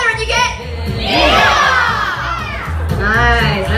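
Crowd at a rockabilly pinup pageant, Miss Wild West Australia at the Moreton Bay Rockabilly Riot, shouting a loud group yee-haw, with two big swelling cheers between bursts of excited voices.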